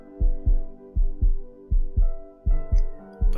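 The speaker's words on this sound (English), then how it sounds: "Her heartbeat rings in my ears." Steady double-thump heartbeat, about eight beats in slow even rhythm, deep and close, standing alone with no talk, set in a romantic visual novel scene.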